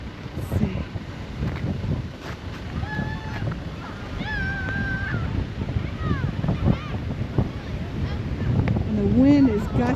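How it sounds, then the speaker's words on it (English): Gusting wind in a winter snowstorm on a snowy, icy sledding hill, a steady roaring rumble buffeting the microphone throughout, with a person talking and exclaiming over it. "And the wind is gusting, y'all."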